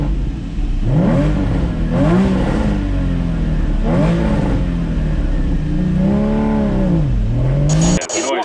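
A Porsche 718 GT4 revs hard, its engine and induction note climbing in pitch again and again as it pulls through the gears, loud and close, with brief dips between each rise.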